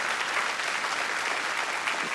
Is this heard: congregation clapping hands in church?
yes